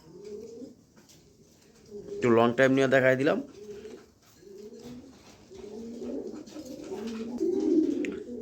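Pigeons of a high-quality pair of green pigeons cooing in low, throaty phrases across the stretch, with one loud, harmonic burst near the middle; someone talks over them.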